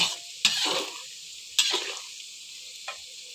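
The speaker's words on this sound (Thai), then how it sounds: "ขั้นตอนแรกเราทอดเต้าหู้ก่อนครับทอดเต้าหู้ให้เหลือง" Tofu fries in hot oil in a pan, a steady bright sizzle with a few sharp bursts of spattering as pieces are moved and stirred.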